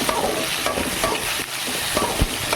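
Tamarind water poured into garlic kuzhambu cooking in a pan gives a steady hiss and sizzle with light stirring scrapes, close up, with no one speaking.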